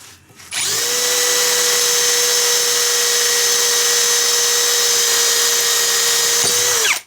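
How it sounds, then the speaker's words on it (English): A power drill whirs continuously for about six seconds at a steady high pitch, drilling out bolt heads on a Bosch alternator, starting and stopping abruptly, loud and close. "I've made a nice start with that drill."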